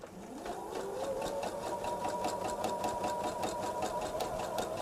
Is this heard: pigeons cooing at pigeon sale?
no